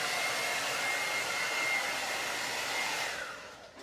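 A salon blow dryer runs at full power during a short graduated haircut, a loud steady whooshing roar that holds for several seconds, then dips and fades as it is switched off.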